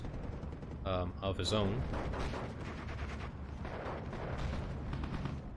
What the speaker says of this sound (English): Luckily we do see Khers respond with mortars